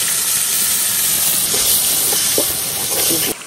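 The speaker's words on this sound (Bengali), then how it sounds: "মশলার বাড়িটা ধুয়ে একটু পানি দিয়ে দেন।" A splash of water added to a hot pan of spiced onion and garlic sends up a loud, steady steam hiss that cuts off abruptly near the end.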